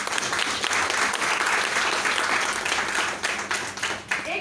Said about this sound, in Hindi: जो करते हो अपने लिए जोरदार तालियां बजाए।